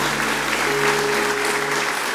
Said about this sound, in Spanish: Demos un aplauso a Dios por su bondad.